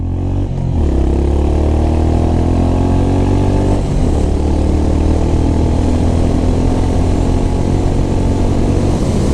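A Honda CB350RS motorcycle engine accelerates hard, its rising drone climbing through a gear change and pulling steadily again, loud and close with no voices.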